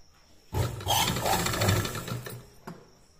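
A sewing machine runs a single continuous stitching burst of about two seconds through blouse fabric, close and fairly loud, with quiet pauses on either side.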